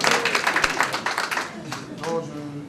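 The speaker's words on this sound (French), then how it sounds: "Donc on peut l'applaudir." Applause from wedding guests at a civil marriage ceremony honoring the groom, a burst of dense clapping that fades after a second and a half, with a voice speaking over the tail end.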